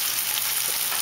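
Sea bass fillets fry in boiling oil, a dense, continuous bright sizzle that stays steady and close.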